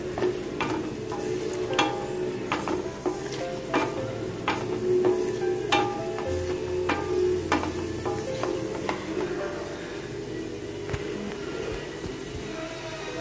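Rava (semolina) frying in a pan for Diwali laddu, stirred until bubbling and turning brown: a steady close sizzle broken by repeated scraping clicks of the spoon against the pan, with no talking.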